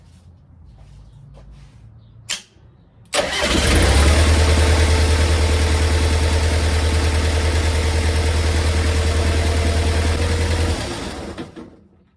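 Kubota V2203 diesel engine, just back from an injection pump repair, cranks briefly and fires up, then settles into a loud, steady idle for about eight seconds before shutting down, with no talk over it.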